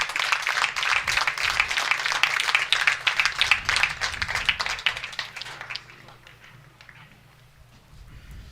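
A baseball crowd at a college game applauds in a lively, rapid clatter of claps that holds strong for several seconds, then fades away into quiet ambient stadium noise.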